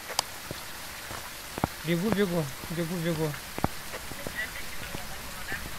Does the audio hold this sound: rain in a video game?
yes